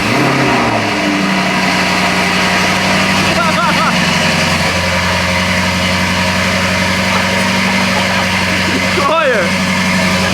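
A wrecked Lamborghini Urus engine, running with no exhaust fitted, starts up and settles into a loud, steady idle, with a couple of brief rev blips and people talking nearby.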